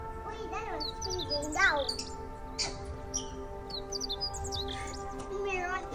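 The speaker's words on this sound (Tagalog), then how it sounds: "Mga ibon nata dito." Birds in a zoo aviary at Avilon Zoo, Montalban, Rizal, giving repeated bright chirps and whistled calls in scattered bursts, some close and clear, with people talking quietly in the background.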